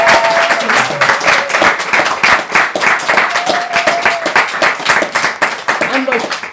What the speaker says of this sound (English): we're going to have a round of applause for Xander